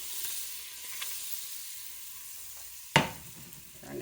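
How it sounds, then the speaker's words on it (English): Butter foaming and sizzling in a pan off the heat for crab bisque, a soft, close, crackling hiss broken by a single sharp clatter of a utensil. "you want that butter to foam like that."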